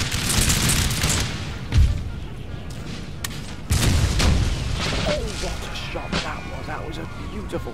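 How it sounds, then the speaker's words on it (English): Cannon fire in Napoleon Total War: booming artillery shots with crackling musket-like bursts and battle noise, loud and dense, with someone talking over it. "is a beautiful shot at last by our cannons"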